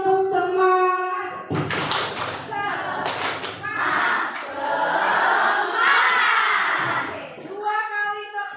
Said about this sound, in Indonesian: Misalnya nih, 1 kali tepuk semangat